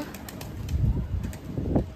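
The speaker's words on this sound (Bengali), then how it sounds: "এখন পায়রাকে খাবার খাওয়াচ্ছি।" Pigeons flock on a rooftop in the morning while being fed, wings flapping and soft cooing close by in a steady busy bustle.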